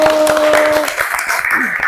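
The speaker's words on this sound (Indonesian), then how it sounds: "Kita beri tepuk tangan untuk kelompok 1" A classroom group claps for a student team after their presentation, with a brief voice at the start, then a loud, dense burst of clapping.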